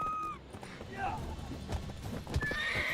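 Horse in The Witcher 3 video game giving a loud whinny and snorts over a quick patter of hooves, close, with game dialogue and talking heard at the same time.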